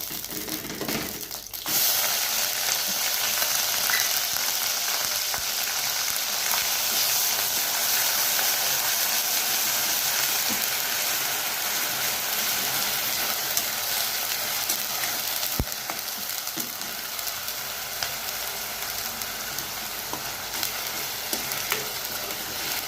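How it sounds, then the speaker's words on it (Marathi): Onion paste frying in hot oil for a Hyderabadi baingan masala, a steady dense sizzle that runs throughout with occasional faint stirring clicks, close and fairly loud, no talking. "आता आपण कांद्याची पेस्ट केली ती 1 वाटी, तर ती टाकते मी प्रथम."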